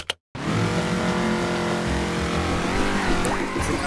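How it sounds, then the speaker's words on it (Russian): A new car drifts in Garry's Mod, its engine revving loudly with a sustained roar and tire squeal close up after a brief silent gap at the start, with no voices. "Мне новая тачка. Добро пожаловать, Пабло. Смотри, как дрифтует"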